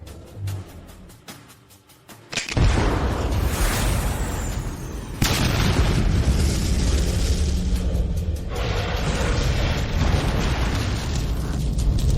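A thermobaric vacuum bomb detonates after a quieter lead-in, releasing a massive roaring blast that rumbles on loudly for seconds with a second surge partway through, no voices.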